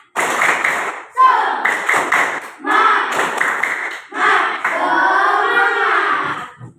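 Sixth-grade elementary class performing the tepuk semangat clapping chant, children's voices chanting in rhythmic bursts with claps and shouts, loud and close across several phrases.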